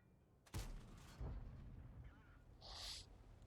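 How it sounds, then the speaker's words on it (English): Two heavy tank gun shots in the World of Tanks video game, fired at an IS-4 about half a second apart, each a sharp loud blast with a brief rumbling tail, followed by a short hissing effect. "So that was 2 shots on the IS-4."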